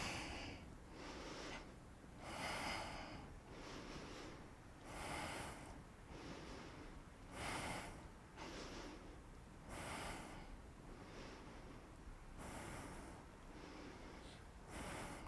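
Slow, deep breaths during a yoga pose, each inhale and exhale a soft airy rush recurring in a steady rhythm, close and quiet with no talking.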